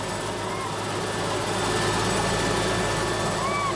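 Rescue helicopter hovering over Cyclone Idai floodwaters makes a steady, dense rotor and engine roar that stays constant and fairly near throughout, with no break.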